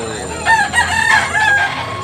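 An old rooster, a pumpkin and banugon cross game fowl in Cebu, crows loudly and close by in a few drawn-out, strained bursts over a steady background hum.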